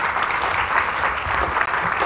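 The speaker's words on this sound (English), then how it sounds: "Can you please give a warm round of applause to our last three speakers?" An audience at a talk on democracy and Europe gives a warm round of applause for the last three speakers, a steady, close wash of many hands clapping that fills the whole clip without a break.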